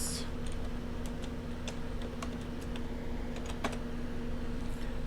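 Code is typed on a computer keyboard in quick, faint clicking bursts over a steady low hum, irregular keystrokes scattered throughout with no talking.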